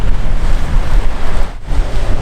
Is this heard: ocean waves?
yes